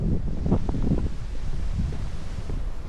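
Steady wind buffeting the microphone, a continuous low rumble with gusty surges, loud and close throughout.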